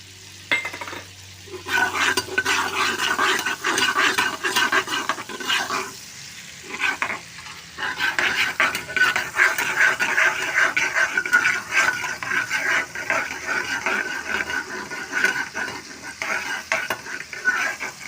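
Curry leaves hit hot oil with cumin in a pressure cooker for pav bhaji, giving a close crackling sizzle stirred with a utensil. Scraping and stirring sounds break up the frying in uneven bursts throughout.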